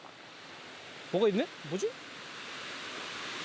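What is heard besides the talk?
running water at a mountain trout farm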